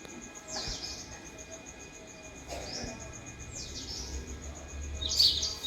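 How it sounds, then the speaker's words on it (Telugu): House sparrows chirp faintly in short, scattered bursts around a home in the morning, with a soft steady background hum and no talking. "ఉరపిచ్చుక పిచ్చుకలు ఉన్నాయి నైవేద్యం తినే పిట్టలు కూడా ఉన్నాయి"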